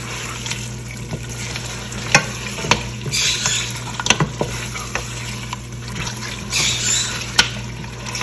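Goat meat fries in masala in a pot, sizzling steadily up close while a spoon stirs and scrapes with irregular clacks and knocks against the metal over a low hum.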